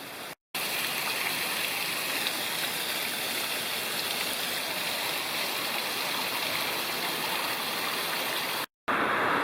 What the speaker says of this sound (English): And a nice waterfall there